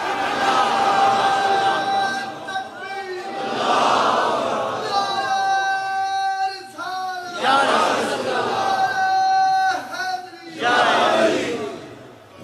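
A large crowd at a religious gathering chants a slogan in loud, rhythmic call-and-response waves, with a single leader's voice rising between the massed roars of the crowd.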